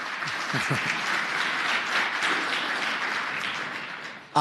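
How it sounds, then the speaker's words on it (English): Applause fills the Senate chamber, a dense, steady clatter of many hands clapping together for several seconds before tapering off. "So you're going to get 2 rounds of applause today."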